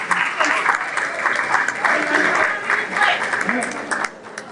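Applause from the audience at a pan-African investment forum in Bamako, a sustained wash of clapping that swells and eases, with someone speaking over parts of it.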